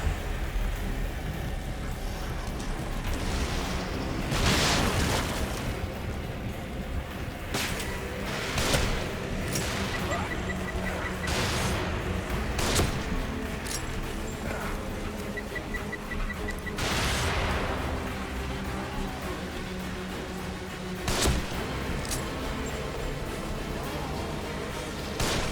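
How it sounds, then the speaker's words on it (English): Repeated rocket launcher explosions boom in The Evil Within, several heavy blasts spaced a few seconds apart over a constant rumbling background, with no voices. "Rocket launcher."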